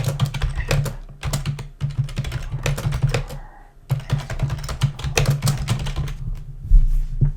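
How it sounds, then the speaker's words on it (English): Fast bursts of typing on a computer keyboard, close and crisp clicking keystrokes with brief pauses between runs, no one speaking. "So I'm just going to type this in,"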